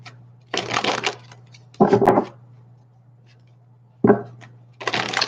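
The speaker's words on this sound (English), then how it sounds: "Let me shuffle this up really, really good." A deck of cards is shuffled in several separate bursts, each a quick riffling flutter followed by a snap, close up and crisp, with quiet pauses and a faint low hum in between.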